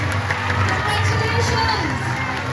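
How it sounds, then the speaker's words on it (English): Students at a school oath ceremony clap and cheer for the new head boy and head girl. The applause and crowd noise form a continuous, moderately loud sound with voices mixed in. "put your hands together for the new head boy and head girl"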